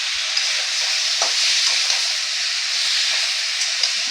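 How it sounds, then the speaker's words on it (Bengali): Coriander leaf, chilli and garlic paste sautéing with potato and brinjal in a pan, a steady bright sizzle with light stirring scrapes throughout, close and continuous with no voices. "এইভাবে ভালো করে আবার একটু সাঁতলিয়ে নিতে হবে"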